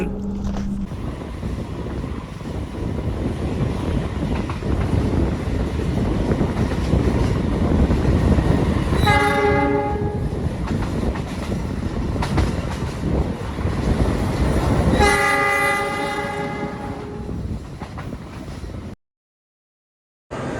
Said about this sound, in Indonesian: ini perjalanan kereta api Sangkuriang telah tiba di stasiun Sidoarjo ya